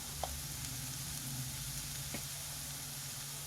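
Sambar powder, turmeric and garam masala frying in a pan, a quiet, even sizzle with a faint stir tap or two, heard alone at low level.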